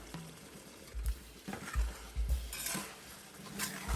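Tofu being stirred through a reduced, cornstarch-thickened tomato braising sauce in a pan, with a utensil scraping and knocking against the pan in several uneven strokes, close and moderately quiet.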